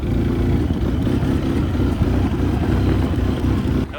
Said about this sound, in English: it's definitely not running on 2 cylinders like it's running on 1